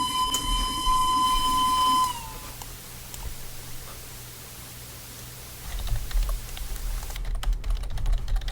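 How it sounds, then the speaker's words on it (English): A steam locomotive whistle in a train simulation game sounds one loud, steady blast lasting about two seconds, then cuts off, leaving a low engine rumble followed by quiet clicking. "Let's blow the whistle."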